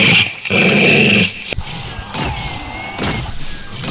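A dog growls and yips in short, loud bursts close by, with a higher whine and some scuffling between them.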